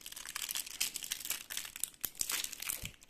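Yu-Gi-Oh Speed Duel GX booster packs are torn open by hand, their foil wrappers crinkling and crackling steadily and close up, with brief sharper tearing bursts and no voices.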